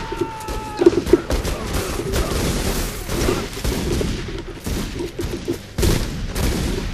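Gunfire in The Godfather 2 video game, a dense continuous barrage of shots and bursts over steady game ambience, with a few sharper louder reports standing out.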